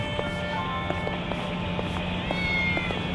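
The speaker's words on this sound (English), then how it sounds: "Okay, where's this cat at?" A cat meows repeatedly in the video game Yakuza: Like a Dragon, short cries in a steady pattern over constant game ambience and a low hum.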